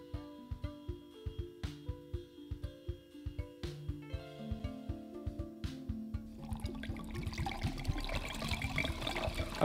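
Potion poured in the Playdate game Spellcorked: a rhythmic series of plinking, drip-like game tones over a soft melody, ending in a sustained bubbly liquid wash.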